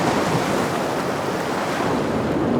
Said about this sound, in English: then all the waves come in